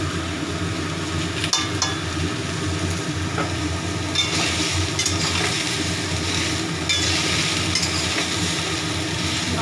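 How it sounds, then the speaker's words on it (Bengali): Vegetables frying in a pan, a continuous low sizzle with occasional stirring scrapes, fairly close and unbroken by talk. "ভালো করে সবজিটা ভেজে নেব"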